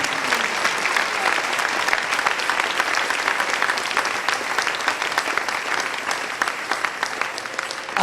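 Church congregation applauding during a Sunday morning sermon, a steady, dense wash of clapping that holds evenly from start to finish.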